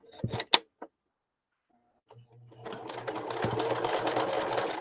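A sewing machine stitches fabric for a shabby chic clutch: a few handling clicks and a pause, then a steady, close motor hum with rapid needle chatter that continues to the end.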